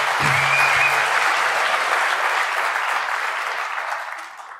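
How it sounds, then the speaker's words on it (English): A large conference crowd at a hacker convention in the desert bursts into applause, a steady wash of clapping that starts loud and slowly fades, with a brief voice near the start. "Give yourselves a round of applause for coming to the desert."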